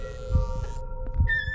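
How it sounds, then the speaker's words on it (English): A heartbeat thumps inside the horror video game Among The Whispers, two low beats about a second apart over a steady eerie hum, with a faint high ringing tone near the end. "You can hear the heartbeats."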